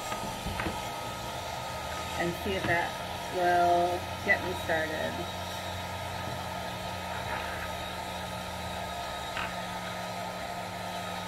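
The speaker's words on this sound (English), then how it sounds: "I'm gonna warm up the vinyl with my hair dryer" A steady hair dryer hum runs throughout, warming a Smart Doll's vinyl, beneath a person speaking briefly, with a few faint clicks and handling noises.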